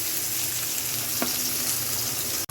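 Onion fries in hot oil with a loud, even hiss that carries through the whole moment. One sharp tap lands near the end.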